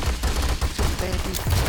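Shots fired in a multiplayer shooter game, a burst of quick cracks spread across a short moment over a steady low rumble of game sound.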